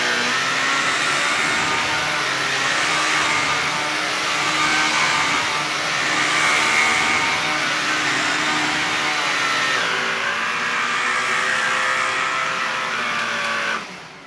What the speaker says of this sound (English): It's a very, very quiet vacuum.